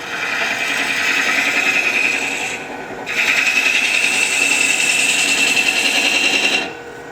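A ring tool cuts end grain on a wood lathe, a steady loud rasping hiss that dips briefly in the middle and then carries on without talk.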